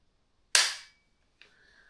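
Dry-fire trigger on snap caps in a FAMARS Excalibur 20-gauge side plate over-and-under, a single sharp, close metallic snap with a short ring, then a fainter second click.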